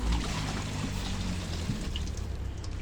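Rainwater being poured out of a fish pond, a soft continuous trickle and splash of water running steadily at moderate distance, fairly faint with a low background rumble.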